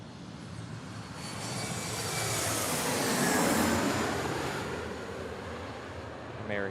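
An American Airlines airliner arriving from Norfolk at Reagan National Airport roars past as a broad, steady jet rumble that swells to a peak midway and slowly fades, heard from a distance with no talk.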